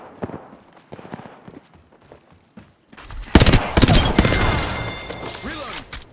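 Heavy video-game gunfire erupts midway, loud bursts and rapid machine-gun fire following quieter scattered sounds and voices in the first half.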